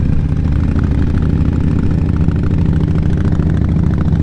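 A carbureted motorcycle engine runs loud and close with a deep, steady, throbbing drone that holds its pitch throughout, heard on a ride near a county airport.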